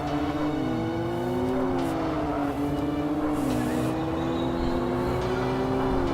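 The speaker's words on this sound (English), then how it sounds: "Yep, definitely sounds like a GTR engine" Nissan R34 GTR with an L6 engine swap racing in the video game TXR3, its engine droning steadily throughout as the pitch rises and drops with gear changes, loud and continuous with no talk.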